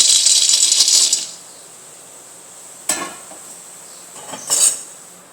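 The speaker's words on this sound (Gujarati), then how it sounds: "તેમાં આપણે આ સિંગદાણા ઉમેરી દઈશું" Raw peanuts poured into an iron pan on a gas stove, a close, bright rattling clatter of nuts hitting metal for about a second, then quiet, then two shorter bursts of rattling as they shift.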